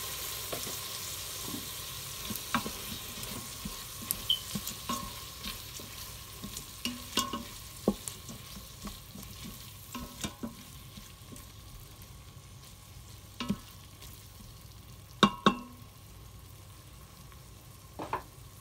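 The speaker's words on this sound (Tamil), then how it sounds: "இப்போ இறால் கொஞ்சம் வதங்கட்டும் ஒரு டூ செகண்ட் வதங்கினா போதும்" Shrimp sautéing with onions in a pan for a curry, a soft steady sizzle with scattered clicks and scrapes of stirring, close and moderately quiet throughout.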